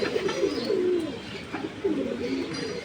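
Giribaz high-flyer pigeons coo nearby in two low, rolling phrases over faint background noise.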